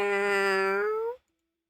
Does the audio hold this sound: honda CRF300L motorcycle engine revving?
no